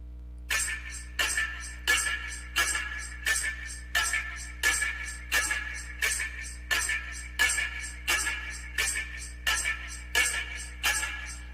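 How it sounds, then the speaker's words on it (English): A looping percussion pattern of shakers and tambourine jingles, bright and crisp, repeating in a steady rhythm with regular accented hits. "So they're just little like shakers and perks, tambourines"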